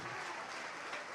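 Church congregation applauding together during a Portuguese-language worship service, a steady, dense wash of clapping that stays even throughout.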